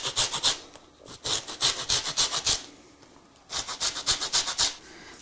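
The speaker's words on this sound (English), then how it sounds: "The last bit of preparation is to grate the orange rind onto the lamb" Orange rind grated over lamb, heard as bursts of rapid rough rasping strokes close up, two runs of scraping separated by brief pauses, with no voices.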